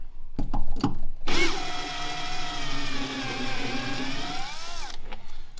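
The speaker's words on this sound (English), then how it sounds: "I am utilizing a ratchet wrench with a Torx bit on it." A power tool with a Torx bit spins bolts out of a Can-Am Defender HD11 side-by-side, a steady whirring run of about three and a half seconds after a few short clicks, close and alone.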